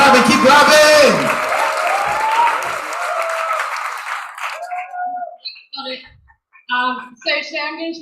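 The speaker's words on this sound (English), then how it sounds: "Keep clapping, keep clapping, keep clapping!" Audience applause at an open mic night, loud dense clapping with cheers and a voice over it at first, then thinning to scattered claps with a speaking voice in the gaps.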